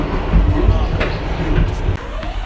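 Brooklyn-bound M local train on the New York City subway running along the B line between stations, a steady low rumble and rattle of the car with a faint voice in the background.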